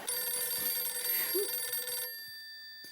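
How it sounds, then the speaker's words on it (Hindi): A telephone rings with a steady electronic tone for about two seconds, then stops, leaving a faint lingering hum. "अरे नट्टू काका का फोन इस वक्त?"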